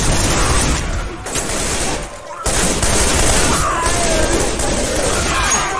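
Heavy gunfire in Left 4 Dead 2, dense overlapping bursts of automatic shots and impacts, loud and continuous with a brief dip in the middle before the barrage resumes.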